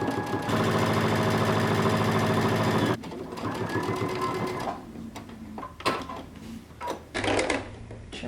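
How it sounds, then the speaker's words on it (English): A sewing machine stitches a jumpsuit seam with a 3/8-inch seam allowance, running in a loud, steady mechanical whir for a few seconds before stopping. Scattered clicks and handling noises follow. "We're going to sew this using 3/8 of an inch seam allowance."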